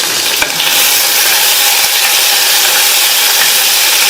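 A large tomato and a small piece of tamarind frying in a pan with sautéed onion, chili and fried dal for chutney, giving a loud, dense, continuous sizzle with a faint clink of stirring near the start and no talk.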